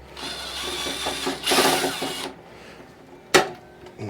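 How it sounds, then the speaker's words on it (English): A power drill driving screws during a furnace repair, running in a steady whirring spell that swells briefly louder, followed by a sharp click or clunk, close by. "Now we can set the screws."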